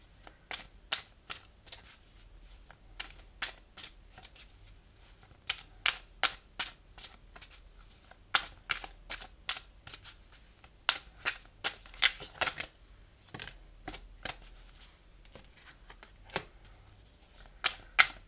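Oracle cards being shuffled in a run of crisp, riffling flutters and slaps, close and fairly loud, with brief pauses between bursts and no talking.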